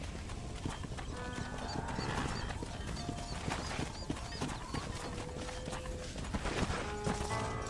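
Horse hooves clip-clop steadily in the Red Dead Redemption video game, a continuous walking rhythm close by, mixed with other game sounds and a brief whinny-like tone.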